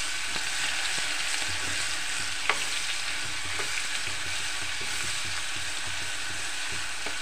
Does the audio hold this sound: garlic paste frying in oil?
yes